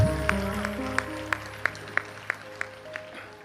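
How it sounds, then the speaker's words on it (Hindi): A small audience at a Hindi kavi sammelan poetry gathering gives a few sparse, evenly spaced claps, thin and scattered rather than full applause, with a sustained tone underneath. "कुछ लोगों ने ताली बजाई है"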